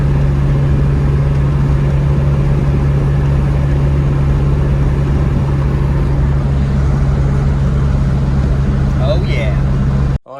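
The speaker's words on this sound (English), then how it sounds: "Go for a test drive." A lowered Chevy Colorado pickup on a test drive, a steady low engine hum and road drone running evenly and loud throughout, close inside the cab, cutting off abruptly at the end.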